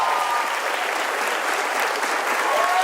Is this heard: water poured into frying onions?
no